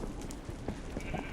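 A sheep bleats in a video game, a short, close bleat over a busy background of game noise.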